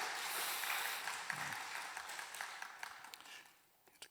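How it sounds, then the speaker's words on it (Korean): Applause from a church congregation during a Wednesday service, a broad steady patter of many hands filling the room and then thinning out toward the end. "우리 다 같이 박수로 우리 찬양을 격려하도록 하겠습니다"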